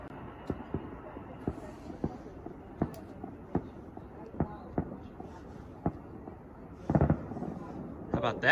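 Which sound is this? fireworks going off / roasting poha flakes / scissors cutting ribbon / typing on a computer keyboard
fireworks going off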